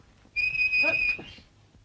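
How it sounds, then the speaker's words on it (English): A single clear, sustained whistled note from a person, held steadily for about a second with a slight wavering, loud and close against a quiet background. "For heaven's sake, don't whistle."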